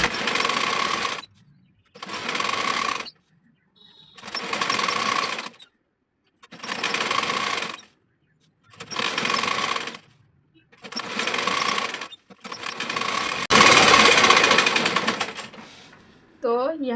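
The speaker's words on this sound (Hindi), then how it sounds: "सिर्फ कॉर्नर टू कॉर्नर सिलाई लगाना है" A sewing machine stitching a six-panel petticoat corner to corner runs in seven separate bursts of whirring, separated by short silent gaps. The final burst runs longer and louder.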